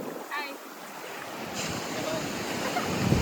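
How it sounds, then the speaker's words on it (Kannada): Sea waves at a beach in Mangalore wash in a steady, fairly loud broadband roar with wind buffeting the microphone, building slightly toward the end, with a faint voice briefly near the start. "ಇದೇ ಸಮುದ್ರದಲ್ಲೇ, ಇದೇ ಸಮುದ್ರ."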